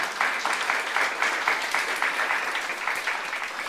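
Church congregation applauding together at a youth service, a steady dense wash of clapping hands with rhythmic bursts that holds throughout.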